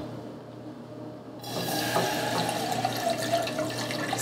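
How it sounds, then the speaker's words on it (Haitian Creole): Water pours steadily into a pot as it is filled with about a cup and a half of water for a weight-loss tea, the splashing stream starting after a quiet moment and running on alone. "Je vais mettre de l'eau ça."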